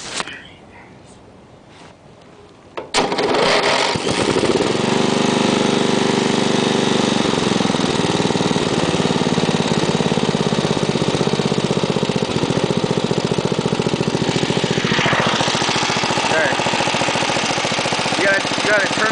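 An old riding lawn mower engine starts after a quiet moment and settles into a loud, steady run nearby, with a brief rise in revs near the end.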